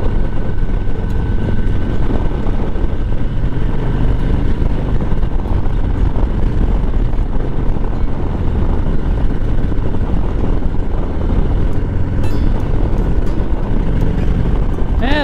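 A Harley-Davidson motorcycle engine roars continuously as the bike accelerates along the road, a loud, close, dense rumble mixed with wind buffeting throughout.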